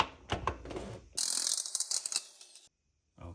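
Impact gun fitted with a 19mm weighted socket hammering at the crank pulley bolt of an Acura NSX, a short rattling burst of rapid impacts after a few clicks, then silence.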